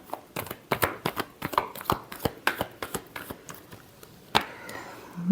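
Tarot cards shuffled by hand during a reading, a close run of quick papery riffles and slaps in an irregular rhythm, with one sharper snap near the end.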